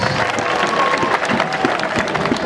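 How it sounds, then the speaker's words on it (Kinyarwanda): A crowd gathered at a church building ceremony breaks into sustained, dense clapping, loud and close throughout with a faint murmur of voices beneath. "muronkera amashyi menshi cyane rwose"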